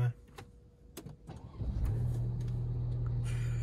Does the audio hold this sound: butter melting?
no